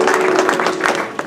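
Audience clapping at a community fundraising event for fire victims held at a Jain center, a dense burst of applause from a crowd lasting just over a second.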